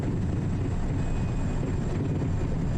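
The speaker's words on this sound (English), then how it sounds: "all these kids up here are just going to sit behind my plane and get blasted from the prop wash" A Kodiak 100 turboprop idles on the ground at a bush airstrip in Papua New Guinea, its propeller giving a steady, loud, broadband roar with a faint whine running through it, continuous and unbroken.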